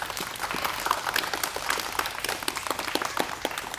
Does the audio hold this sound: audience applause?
yes